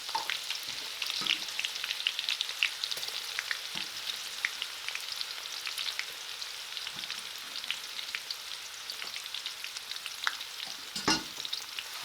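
Onion sizzling in a pan with golden-browned garlic and ginger for a Pakistani chicken karahi, a steady quiet frying hiss with occasional soft clinks and stirring scrapes, no talking.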